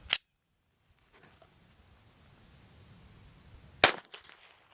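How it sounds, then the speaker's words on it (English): A Smith & Wesson MMP9 pistol with an extended threaded barrel fires 158 grain subsonic hand loads. Two sharp, close reports ring out, one at the start and another near the end, with quiet in between. "we just shot the Smith & Wesson MMP9 with the extended threaded barrel, 158 grain hand loads"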